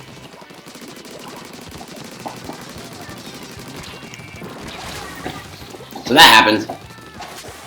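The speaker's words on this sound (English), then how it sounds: "So there's someone launched a torpedo at me." A torpedo sub weapon launches and bursts in the Splatoon video game during a Turf War match, a sudden loud explosive blast near the end of the clip, with game sounds and a voice talking beforehand.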